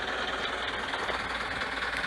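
A farm tractor's engine idles steadily nearby, a loud, even, broadband rumble and whir without pauses, heard alone with no talk.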